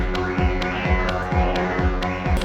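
Befaco Oneiroi synthesizer patch running through its resonator and echo, giving a steady throbbing, droning tone with repeating rhythmic low pulses and echoed hits, alone with no voices.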